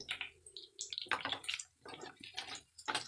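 Pieces of roasted paneer are dropped into a bowl of cold water in a home kitchen, giving a series of small, close splashes and drips.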